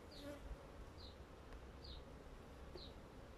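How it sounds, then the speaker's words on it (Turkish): Bees buzz at a beehive in warm weather with a faint, steady hum, and single bees pass close by every second or so. "Hava sıcak olduğu için arı dışarı çıkıyor."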